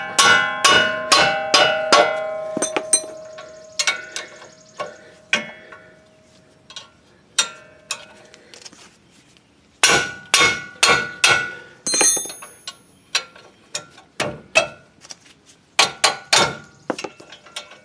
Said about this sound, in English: I'm going to put my wrench on and use my mallet again.